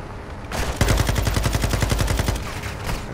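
Rapid bursts of automatic gunfire in Modern Warfare II, loud and close, rattling in a fast steady rhythm for a few seconds before tapering off.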